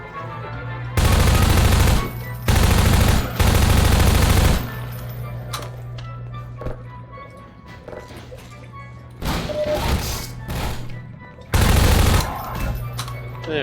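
Enemy gunfire in Half-Life 2 rattles out in several loud, close automatic bursts separated by quieter gaps, with a low steady hum underneath.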